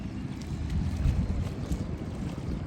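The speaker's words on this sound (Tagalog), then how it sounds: "Malakas kasi ang hangin dito." Strong wind buffets the microphone in a steady, low roaring rush with gusty surges, and no voices are heard.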